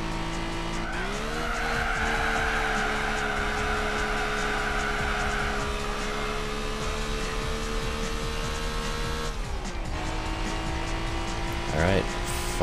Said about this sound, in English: That was a big slide.